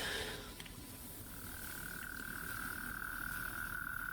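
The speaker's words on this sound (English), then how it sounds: "The frogs are wrestling." Wrestling frogs give a steady, high-pitched croaking trill that runs almost unbroken for several seconds, fairly faint over low background rumble, with no voices.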